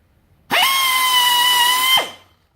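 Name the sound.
air drill drilling holes in wood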